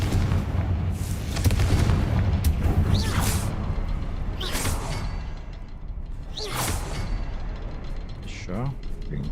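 A Confringo spell explosion in a video game: several swooshing casts followed by booming blasts at intervals over steady rumbling ambience, with a voice talking throughout.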